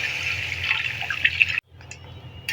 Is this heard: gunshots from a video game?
no